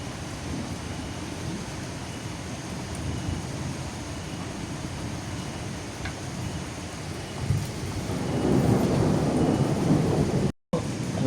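Steady rain pours down outdoors with low, rumbling thunder rolling underneath, the downpour swelling louder toward the end and broken by a brief cut before it resumes.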